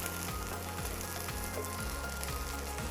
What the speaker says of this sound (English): You want them to fry and kind of dry up.